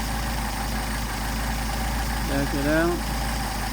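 A Mercedes 190SL engine with rebuilt carburetors idles steadily up close, a low continuous rumble, while a person briefly speaks over it near the end.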